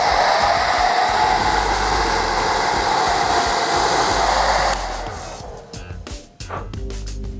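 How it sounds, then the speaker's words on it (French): A hair dryer roars steadily at close range while heating leather shoes to stretch them. It cuts out after about five seconds, leaving faint handling noises and rustling. "la chaleur de mon super sèche-cheveux va faire que le cuir se détende"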